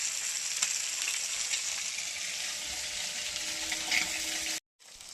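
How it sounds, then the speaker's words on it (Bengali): Fish frying in hot oil in a home kitchen, a steady dense sizzle close up that continues without a break until a sudden short gap near the end. "এই দেখুন আর এক খোলা মাছ ভাজা হয়ে গেল আমার"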